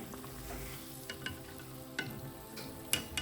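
A batata vada frying in hot oil, a soft steady sizzle with a few light clicks and taps, fairly quiet and close.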